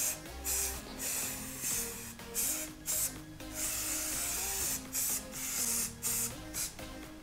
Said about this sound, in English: Cold can of spray paint.